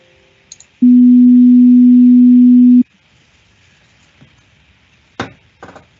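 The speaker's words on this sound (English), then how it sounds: "here we can play an even higher pitch sound" A single steady pure tone holds for about two seconds, loud and clean, then stops, followed by a few faint clicks.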